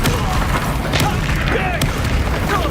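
A Confringo fire-blast spell erupts in Hogwarts Legacy, a dense, loud boom with crackling bursts sharp at about one and two seconds, set within a constant roar of combat effects.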